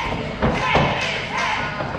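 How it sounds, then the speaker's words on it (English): A heavy thud from a wrestler struck by a clothesline at a live wrestling event, a single dull impact landing amid a constant roar of crowd noise and ringside commentary. "The sound of that clothesline. You can hear that thud."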